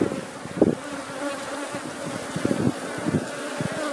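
Buzzing of an Apis honey bee swarm developing on wax comb frames full of larvae, a close, steady hum with louder surges of individual bees passing near.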